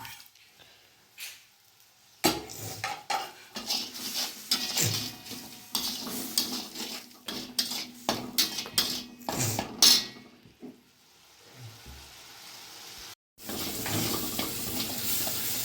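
Spice masala sizzles and fries in a pan for a soybean and bottle gourd curry, with repeated close scraping and stirring strokes of a utensil against the metal and occasional clinks, no voices present.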